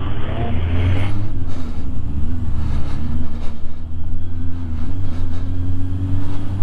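A motorcycle ridden on roads in Japan: a loud, steady engine drone with low harmonic hum and wind rush throughout, continuous and close, with no clear talk over it.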